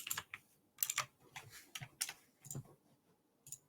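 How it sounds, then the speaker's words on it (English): Computer keyboard typing in bursts of clicky keystrokes, several short clusters spread over a few seconds, fairly faint and close, with no talking. "I could hear your keyboard."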